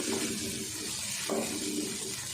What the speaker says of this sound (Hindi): 2-3 टेबल स्पून पानी डाल देते हैं